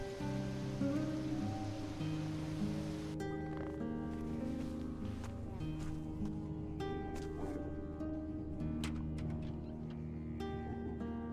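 Steady rain falls in the video game Risen, a continuous hiss of drops heard alone with no talk, while soft music tones and occasional sharper clicks of droplets sit in the background.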